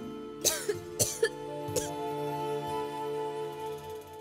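A person coughs several times in short bursts, close and clear, then the coughing stops over a steady background tone.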